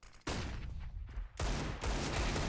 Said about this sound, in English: Oh, good shooting.